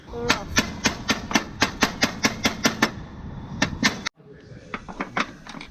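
Rapid, rhythmic metallic hammer blows ring out up close as aluminium track is hammered out on a sailing catamaran, a long steady series, then a short pause and a few softer strikes.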